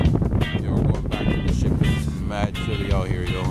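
Wind gusting at a Bahamas cruise port beside a Carnival ship, rough buffeting rumble on the microphone under people talking throughout.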